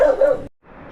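A short dog yelp or bark at a dog shelter, fairly close and loud, followed by a brief pause and then quieter background noise.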